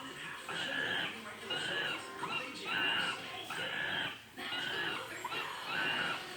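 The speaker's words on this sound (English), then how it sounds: "That's the sound a monkey makes" A monkey call played through an Alexa smart speaker, repeating in several loud, squealing chattering bursts with short gaps between them.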